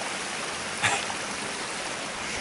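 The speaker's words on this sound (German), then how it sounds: "Und hier haben wir schon wieder Wasser." A forest stream runs steadily nearby, a soft continuous rushing of water with one brief brighter splash partway through.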